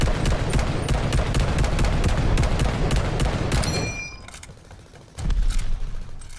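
A drum-magazine rifle in Call of Duty: Vanguard fires a rapid, loud burst of gunshots for about four seconds until empty, ending in a short metallic ping, followed by a fainter mechanical rattle and another thud.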